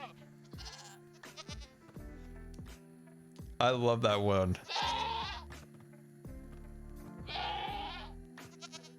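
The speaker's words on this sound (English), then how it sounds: "I feel like we might have an imposter screaming goat in the mix here." Screaming goats in Minecraft bleating loudly in several strained, wavering cries, interspersed with people chatting and music in the background.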